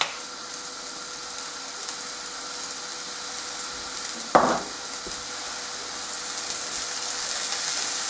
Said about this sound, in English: So that's sauteed down a little bit.